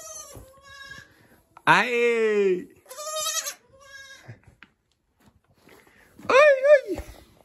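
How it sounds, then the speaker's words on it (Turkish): Newborn twin goat kids bleat in a few loud, wavering cries close by, with a person's brief talk and short pauses between calls. "İkiz oğlak bunlar."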